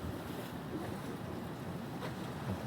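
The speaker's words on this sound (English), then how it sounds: "I got waves that are coming to my right" Ocean waves roll in from one side, a steady broadband wash of surf with gusty wind buffeting the microphone throughout, fairly close and with no voices.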